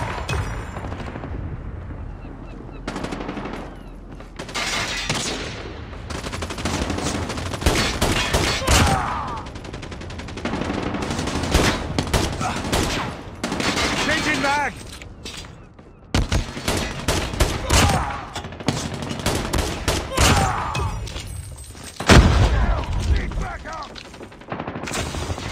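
Sustained gunfire from Call of Duty gameplay, dense bursts of automatic fire and heavier booms rolling almost without pause, loud and close throughout.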